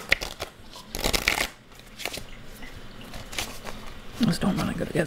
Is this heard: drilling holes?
no